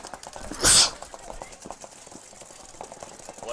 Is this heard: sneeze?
yes